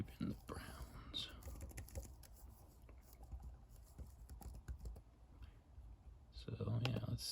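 Quiet clicking on a computer keyboard, faint irregular bursts of keystrokes at close range under soft talking, growing louder near the end.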